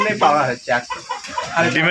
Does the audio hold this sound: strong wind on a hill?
no